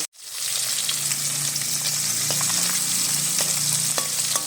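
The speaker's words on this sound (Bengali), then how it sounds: "সেই মাছ দিয়ে মাছ কটা ভেজে নেবো" Fish pieces frying in hot oil in a home kitchen make a loud, steady sizzle that starts after a brief silent instant. Small pops and crackles are scattered through it, and no one speaks.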